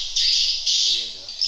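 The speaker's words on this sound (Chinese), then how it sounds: "顶上去有好多小燕子，这个不是那个大的燕子，可以飞了" Edible-nest swiftlets calling inside a cave in Borneo, producing loud, sustained high-pitched buzzing chirps in several bursts close by, with faint voices underneath.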